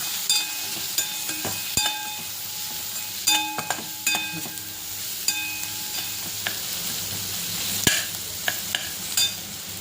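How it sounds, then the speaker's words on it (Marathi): A spoon stirs masala with turmeric, red chilli powder and coriander-cumin powder in a pan over a soft sizzle, knocking against the metal in repeated, irregular clinks and scrapes. "लाल तिखट, थोडीशी धना जिरा पावडर, छान मिक्स करून घेऊया"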